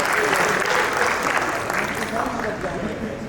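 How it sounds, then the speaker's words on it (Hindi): Audience at a mushaira applauding a poet, dense continuous clapping from a large crowd throughout, with voices mixed in. "भरपूर तालियां।"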